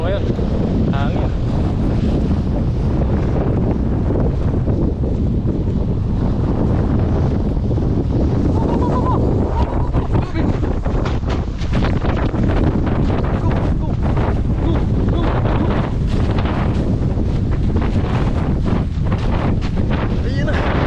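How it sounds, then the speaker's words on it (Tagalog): Strong wind roars constantly into the microphone, a heavy buffeting rush with no letup, with faint voices buried beneath it. "Very, very strong. The wind is strong."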